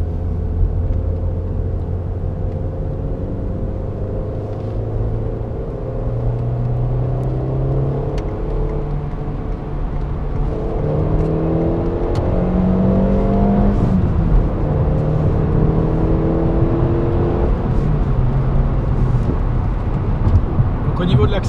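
Citroën Xsara 1.6 16V engine from 2002 pulling steadily under acceleration, a continuous rising drone heard from inside the car while someone talks over it throughout.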